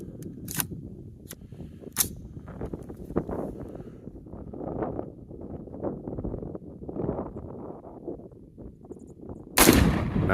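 Rifle shots ring out at a shooting range, several sharp cracks spaced through the clip, the last one loud and close, with faint outdoor wind noise and low rustling between shots.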